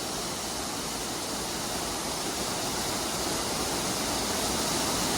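Waterfall at Long Creek Falls along the Appalachian Trail, its constant, dense rushing roar filling the scene from nearby with no pauses or voices.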